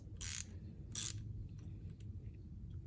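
A quick-release ratchet with a selector toggle gives two crisp, close clicks about a second apart, followed by a few faint ticks over a low background hum.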